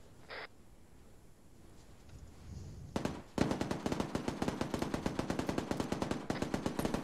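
Rapid machine-gun fire in a military shooter video game starts after a short quiet stretch, then continues as a fast, loud, steady burst of shots with no speech.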